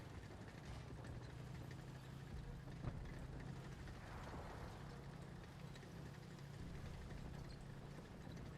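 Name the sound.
tank engine running in video game Enlisted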